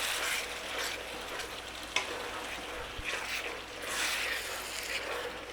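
Pasta bake ingredients stirred in a pan, a steady scraping swirl over a constant sizzle, close up, with one sharp clink of the utensil against the pan partway through and no talking.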